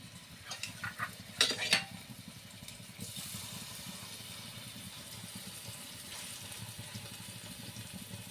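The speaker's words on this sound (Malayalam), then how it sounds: "മീൻ പൊരിക്കാൻ പോവാട്ടോ." Fish frying in a pan, a faint steady sizzle running under a few sharp metallic clinks and scrapes near the start, with the hiss growing slightly fuller after a few seconds.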